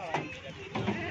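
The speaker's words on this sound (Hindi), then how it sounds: "अब बकरियां दिखाते हैं आपको।" Goats bleating in a livestock holding area during loading, two short bleats at the start and near the end, close and moderately loud, with voices talking underneath.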